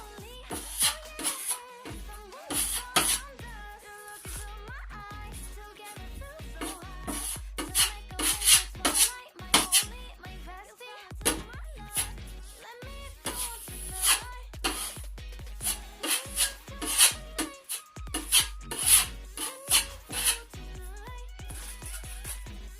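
A scraper spreads lightweight spackle into a large wall hole, giving soft, repeated scraping and rubbing strokes in irregular bursts, close and moderately quiet, with brief pauses between passes.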